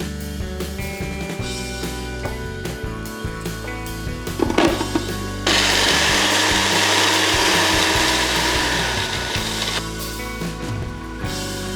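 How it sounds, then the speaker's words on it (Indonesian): Grinder blending a coarse spice paste with roasted spices for rendang, a loud mechanical whir with rattling, ratchety pulses that surges into a dense, heavy grinding roar partway through and holds steady until the end. "bumbu yang masih kasar itu kita giling lagi dengan rempah yang disangrai tadi"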